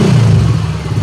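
A Yamaha Mio Soul i 125 scooter engine runs close and loud with a steady low-pitched drone and rumble throughout.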